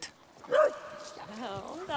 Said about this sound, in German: Zina ist ein gelehriger Hund